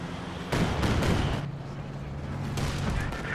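Artillery barrage rumbles in Company of Heroes 2, a dense run of heavy booming impacts starting half a second in and continuing loud throughout, with a low steady engine drone underneath and a voice talking over the battle.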